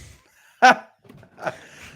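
A dog gives two sharp barks about a second apart, the first loud and close, the second a bit softer, with quiet room sound between.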